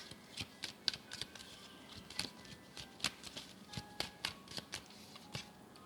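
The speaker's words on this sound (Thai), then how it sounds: "เปิดไพ่พลังงานตัวตนหลักของเขานะคะ" Tarot cards being shuffled and drawn make quick, crisp riffling snaps in a rapid, uneven rhythm close by, quiet overall, with no speech.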